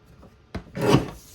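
Card stock trimmed for a chocolate card kit: a quick click, then a single close rasping slide of the blade through the paper, lasting under half a second.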